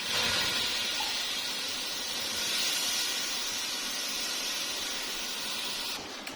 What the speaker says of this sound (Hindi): इसमें मैं ये हाफ गिलास पानी डाल दूंगी।